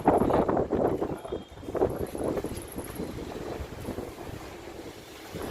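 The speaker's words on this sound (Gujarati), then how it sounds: "તોફાન એટલે ફૂલ વરસાદ તો નથી, પવન છે ખાલી, પવન ફૂલ" Strong wind roars and gusts steadily in a rainless storm at night in Junagadh, buffeting the microphone with a loud, rushing broadband noise that never lets up.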